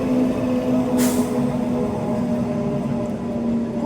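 A goods train bound from Palakkad toward Tamil Nadu rolls past a railway crossing, giving a loud, steady rumble with a low humming tone and a short hiss near the start, with no voices.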